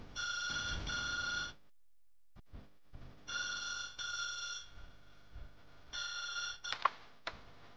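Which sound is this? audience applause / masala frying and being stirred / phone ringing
phone ringing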